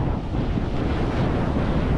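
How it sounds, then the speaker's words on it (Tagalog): Heavy ocean surf after a storm in the Philippines roars continuously, with strong wind buffeting the microphone and no voices. "Lakas ng alon"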